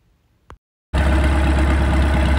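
A Farmall M tractor engine fired on a mix of two parts diesel to one part gasoline rumbles loud and steady at idle after a short click, running alone without talk.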